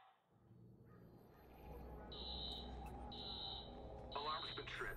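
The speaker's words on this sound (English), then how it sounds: "Alarm's been tripped." Alarm beeping inside a club in the Watch Dogs video game, a steady high electronic tone sounding in repeated bursts over game music and ambience.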